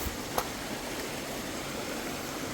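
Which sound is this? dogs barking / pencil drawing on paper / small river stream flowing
small river stream flowing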